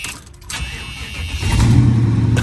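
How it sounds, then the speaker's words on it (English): A custom 1979 Buick Regal cranks and catches, then settles into a loud, steady idle with a deep exhaust rumble, close by. "let's fire it up once. We got to at least hear it run quick."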